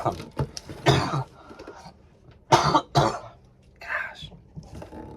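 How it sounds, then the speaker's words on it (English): A few short, harsh coughs in bursts with pauses between, close to the listener, mixed with some throat clearing and light background activity. "I like have this forever cough that my children have given me"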